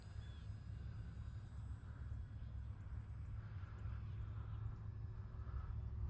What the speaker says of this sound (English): Boy, what a good looking plane.